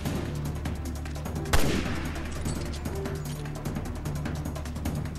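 Sniper rifle gunfire in the video game Resident Evil Revelations 2: one loud sharp shot cracks out over a dense, continuous bed of rapid game gunfire and clatter, with no voices.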